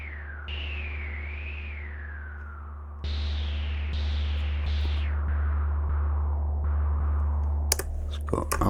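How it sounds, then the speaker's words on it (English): A Behringer D-mini synthesizer puts out filtered pink noise, its cutoff stepping and sliding through several jumps over a steady low hum, ending in a few sharp clicks. "Pink noise."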